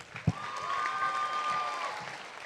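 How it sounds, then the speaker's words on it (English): School graduation audience giving a steady round of applause, even and sustained, opening with a single low thump, with a faint sustained tone running through the middle. "Let's give everybody a big round of applause."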